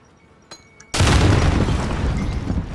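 A grenade in Call of Duty: Modern Warfare goes off as one sudden, loud close blast after a couple of faint clicks, followed by a long rumbling roar that slowly trails off.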